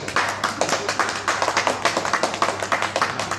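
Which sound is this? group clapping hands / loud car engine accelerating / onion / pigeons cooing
group clapping hands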